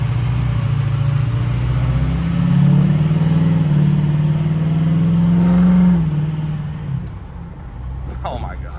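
A truck's 6.0 engine drones steadily while driving and swells louder mid-way, as if accelerating, then eases off with a faint hiss near the end.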